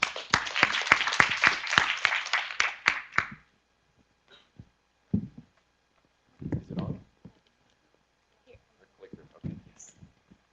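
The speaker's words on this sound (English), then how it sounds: "Once again, our applause." Audience applause at a forum session as a speaker is welcomed, a dense burst of many clapping hands that tapers off after about three seconds, followed by scattered knocks and handling sounds.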